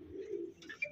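A Punjabi Malwai racing pigeon gives a soft, low, throaty coo lasting under a second, heard close up and quiet, with faint rustling and a light chirp at the end.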